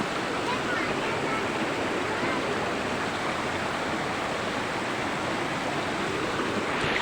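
A waterfall and full river rushing nearby, a dense, even roar of water that holds steady throughout with no breaks.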